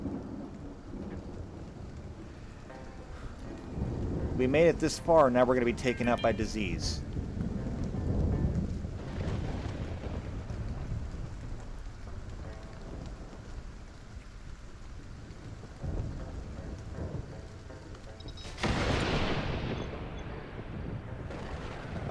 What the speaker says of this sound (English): And now there's a thunderstorm